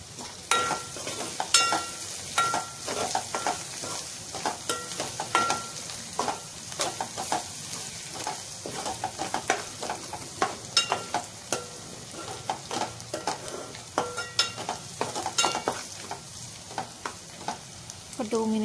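Onions with turmeric sizzle in a pan while a spoon stirs them, giving a steady crackling fry with frequent scraping clicks throughout.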